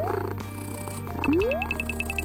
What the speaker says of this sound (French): J'entends quelque chose. C'est des miaulements.